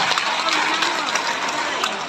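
A brief, steady wash of audience clapping rises at a clan grand reunion in Cabadbaran City. Close, dense hand claps continue without a break.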